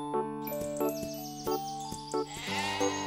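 Sheep bleat repeatedly in a farm setting, several wavering calls spaced through the moment with a bright bell-like jingle ringing alongside, fairly close and clear with no talking.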